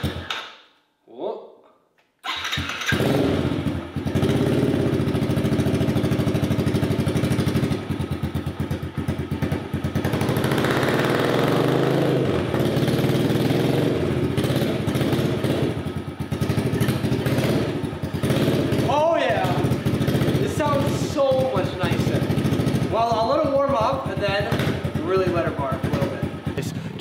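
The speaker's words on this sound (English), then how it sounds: "ripping wheelies up and down the driveway" A Yamaha TT-R 110 or Honda CRF 110 dirt bike revs loudly and close by on a driveway while doing wheelies. The engine roars continuously, with rising and falling revs toward the end.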